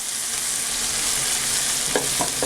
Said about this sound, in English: I add about a tablespoon of this, almost a full one, and saute it together with the garlic.